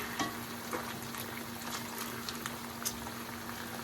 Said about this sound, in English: See, now we got our water boiling.